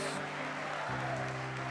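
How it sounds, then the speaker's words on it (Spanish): A church congregation claps together during a service, a dense steady patter of applause over sustained tonal music throughout. "Dele el aplauso al Señor"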